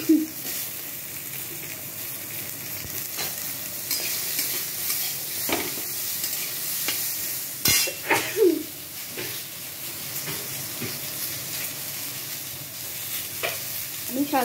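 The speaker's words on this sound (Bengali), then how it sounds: "দেখছো কিরকম পটপট আওয়াজ করছে।" Pieces of star fruit fry in oil in a pan over a low gas flame, a steady close sizzle scattered with sharp pops and crackles, with occasional stirring scrapes.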